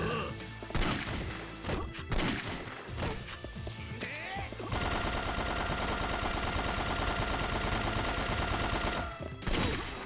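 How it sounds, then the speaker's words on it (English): Shotgun fire in the video game Yakuza 3, loud repeated blasts and crashes in a chaotic burst, then a sustained dense roar of noise, close and intense. "Is that a shotgun?"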